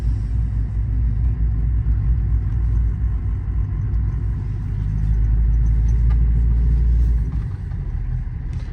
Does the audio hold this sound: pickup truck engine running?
yes